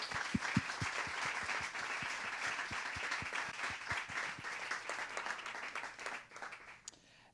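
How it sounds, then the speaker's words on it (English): A concert-hall audience applauds after a film-scoring composer's presentation, with steady dense clapping that rises, holds for several seconds, then thins and fades toward the end. "Huge applause, please."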